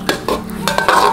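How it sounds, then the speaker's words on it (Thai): Prawns and spaghetti stir-fry in a pan, with spatula scrapes and stirring strokes repeating over a steady close sizzle, no talking. "ผัดนะคะ"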